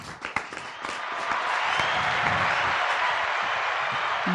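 Audience at a Startup Weekend pitch event breaks into applause, starting with scattered claps that quickly swell into a full, steady ovation, with faint voices and cheers mixed in.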